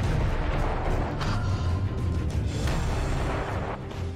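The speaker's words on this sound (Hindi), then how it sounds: "ये यूक्रेन आर्मी की T-30 तोप है और यहां इससे लगातार गोले बरसाए जा रहे हैं।" Ukrainian army T-30 artillery firing shells continuously on the Bakhmut front: a dense, loud wash of booms and rumbling fire that never lets up, with no talk heard.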